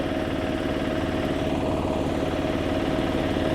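A two-wheel power tiller engine runs steadily at high gear on an open road, a loud continuous chugging drone with a fast, even pulse and no pauses.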